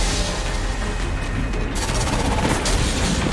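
Gunfire in the video game Destiny 2 crackles in a dense, noisy burst that grows louder and brighter halfway through, continuous and fairly close, with no voice over it.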